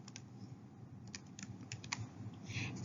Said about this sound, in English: When we type it in on the calculator, we type the entire problem in parentheses.